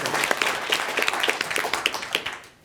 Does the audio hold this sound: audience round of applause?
yes